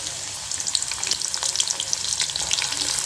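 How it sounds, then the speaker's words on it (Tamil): Onions frying in hot oil for a dried-fish thokku, giving a dense, continuous crackling sizzle with fine popping bursts, close and steady throughout, no talking. "இப்போ நம்ம இதில் வெங்காயத்தை சேர்த்துக்கலாம்"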